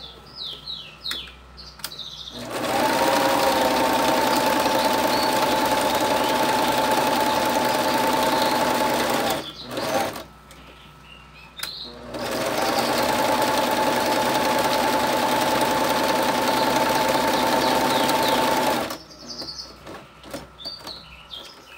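A sewing machine stitches fabric for a turban in two long steady runs of fast, even mechanical whirring, separated by a brief pause, with quiet handling sounds before and after.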